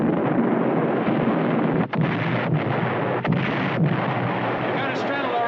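Naval gunfire from an enemy warship in a war movie, heavy booming salvos rumbling over a constant roar of wind and sea, with a few sharper blasts breaking through.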